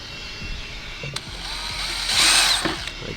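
A drill driving holes through deck timber for a swinging chair arch, using a drill guide: short clicks and a brief motor whir that swells louder near the end, close by with no talk.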